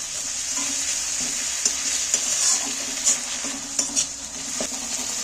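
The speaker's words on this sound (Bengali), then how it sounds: "এক চামচ রসুন বাটা দিয়ে দিচ্ছি প্রথমে আমি রসুনটাকে একটু" Onions and garlic paste fry in a pan for a chicken dish, giving a steady close sizzle with a few sharp clinks and scrapes of stirring, no voices.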